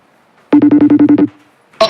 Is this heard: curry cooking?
no